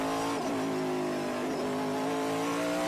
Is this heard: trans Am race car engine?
yes